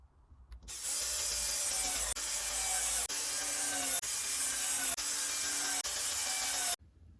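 A power screwdriver drives screws through painted grill pieces into a wooden radiator cover with a loud, continuous whir. Brief dips in the sound mark each pause in driving.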